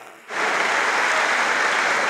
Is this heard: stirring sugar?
no